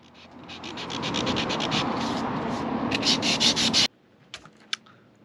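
Continuous close scratchy sanding of fairing compound on a boat rudder in a boatyard, steady abrasive rubbing for nearly four seconds before stopping abruptly, followed by a couple of faint taps.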